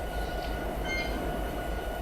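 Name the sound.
train passing in Train Simulator 2019 video game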